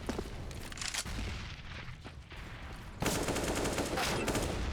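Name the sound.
gunfire in video game Counter-Strike on Mirage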